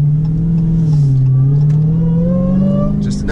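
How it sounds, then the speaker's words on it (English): Dodge Hellcat with its supercharged engine revving at a car show, a loud close engine drone that rises and falls, with a thin supercharger whine climbing above it, and no voices. "Just another day driving that Hellcat, hearing that supercharger whining"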